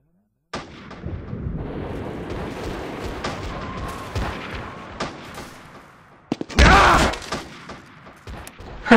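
Video game cannon fire booms in a quick series of sharp reports, with a louder, denser burst near the end and faint voices underneath.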